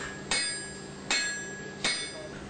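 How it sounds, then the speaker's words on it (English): Three heavy hammer blows strike hot steel during knife forging, evenly spaced about three-quarters of a second apart, each a sharp ringing clang over a steady background hiss. "it's taken from the heat and beaten using a hammer."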